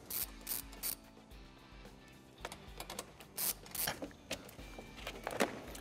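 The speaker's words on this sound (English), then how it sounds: "we found it easy to remove these two bolts" A hand ratchet loosening bolts on a Kawasaki motorcycle, repeated bursts of quick clicking pawl sounds, close and moderately quiet, with short pauses between strokes.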